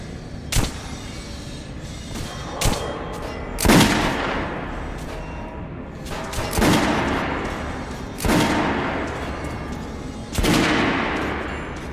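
Repeated gunshots on a shooting range in Metro Last Light Redux, about six loud cracks, each followed by a short echoing tail, spaced a couple of seconds apart with no talking between them.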